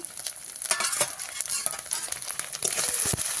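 Ground spices, dried chilli, cumin and coriander paste with ginger and garlic, sizzle steadily in hot oil in a pan, a continuous close crackling hiss with faint stirring scrapes and no voices.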